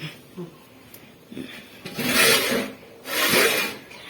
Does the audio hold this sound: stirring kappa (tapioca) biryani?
yes